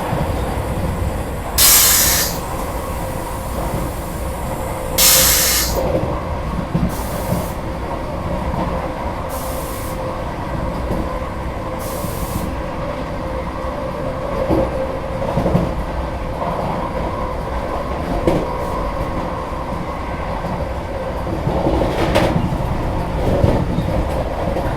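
Vande Bharat Express on the New Delhi to Varanasi line running at speed, a steady loud rumble of wheels on rails with hissing and brief sharp bursts, continuous throughout without speech.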